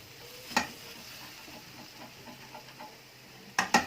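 Mushrooms and squid fry in a pan with a low, steady sizzle, broken by two sharp clicks or scrapes near the start and end; no one talks.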